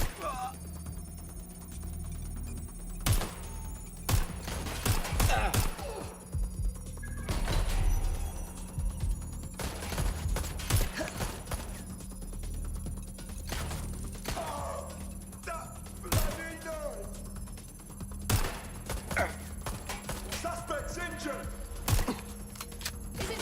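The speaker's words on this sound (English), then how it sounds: "I'm taking fire!" Gunfire in the video game Watch Dogs: Legion: scattered sharp shots and thuds, irregular and fairly close, over a steady low hum, with intermittent voices.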